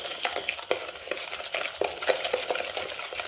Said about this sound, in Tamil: 3 வாட்டி கொஞ்சம் கொஞ்சமாக சேர்த்து கிண்டி எடுத்துக்கிறேன்.